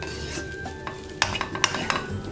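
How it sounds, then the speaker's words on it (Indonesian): Spicy yellow fried rice with turmeric is stirred in a pan, with a spatula scraping and clinking against the metal in several sharp strokes over a faint sizzle, close up and without speech. "Oke, tinggal kita aduk-aduk."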